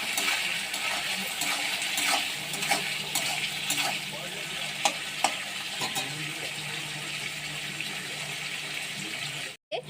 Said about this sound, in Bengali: এরপরে আমি চিংড়ি মাছটা দিয়ে দিলাম যাতে কাঁচা চিংড়িটা ভালো মতন ভাজা হয়ে যায়।